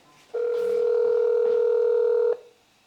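A phone dialing tone rings out loud and alone, one steady sustained tone lasting about two seconds, as someone calls a person to talk to her.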